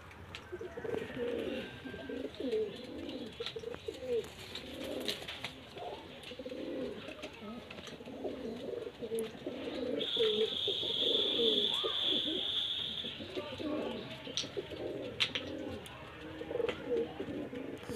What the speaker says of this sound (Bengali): এটা হচ্ছে ফিমেল পায়রা জিরিয়া